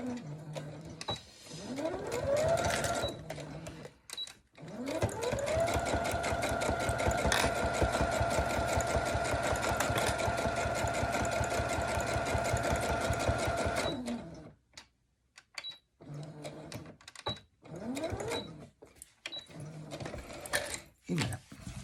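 Sewing machine topstitching along the edge of fabric with a lengthened stitch, 0.5 cm from the edge, running in a long steady burst of rapid rhythmic stitching, with short starts and stops before and after and a voice talking in between.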